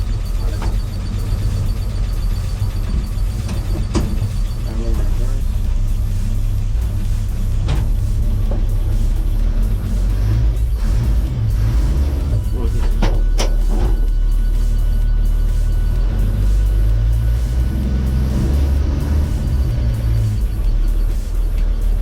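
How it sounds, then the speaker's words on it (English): A 1969 Chevrolet C10 pickup truck engine runs steadily through a test drive, a loud, continuous low rumble from inside the cab with shifting road and drivetrain noise and occasional rattles, no talking. "we're gonna go take this truck for a test drive"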